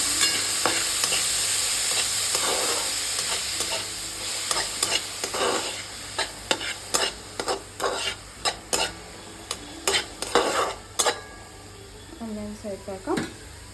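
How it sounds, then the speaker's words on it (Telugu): Chopped onions stirred and fried in a pan for a moong dal curry: a steady sizzle with repeated scraping strokes of the spoon against the pan, close and fairly loud, with no talking. "ఆనియన్స్ ఇలా బాగా ఆనియన్స్ వేసుకుని బాగా కలుపుకోవాలి."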